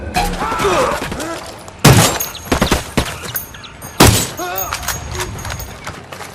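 A Ghost Recon Wildlands cutscene firefight brings bursts of gunfire and loud impacts at close range, with sharp volleys near two and four seconds while shouted voices carry over the shooting.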